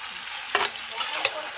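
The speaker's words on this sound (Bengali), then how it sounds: "এবার মাংসটা ম্যারিনেট করা মাংসটা দিয়ে দেওয়া হলো" Marinated meat hits a hot pan with a sudden loud sizzle, followed by steady frying crackle and a couple of stirring scrapes, close up with no talk.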